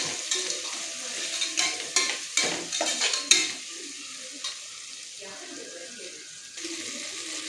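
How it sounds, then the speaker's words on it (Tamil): Green chillies sautéing with salt in a pan, stirred in bursts of scraping and soft sizzle through the first few seconds, then settling to a quieter steady fry. "அப்புறம் நல்லா வதக்கிட்டு உப்பு கொஞ்சம் போட்டுட்டு திருப்பி நல்லா வதக்கிக்கணும்"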